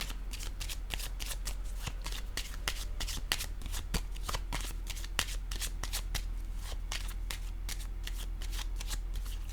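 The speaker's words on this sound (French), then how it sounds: "Je vais piger une autre carte pour voir." Playing cards are shuffled and riffled steadily, with crisp, dense flicking and slapping that runs almost without pause. A constant low hum sits underneath.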